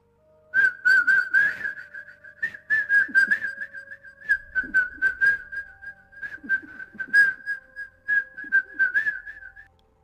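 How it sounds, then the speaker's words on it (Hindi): A person whistles a lively tune alone, clear and close, with short repeated notes and brief pauses between phrases. "एक कोने में एक आदमी बैठा हुआ था और वो अपना मुंह छुपाकर सीटी बजा रहा था।"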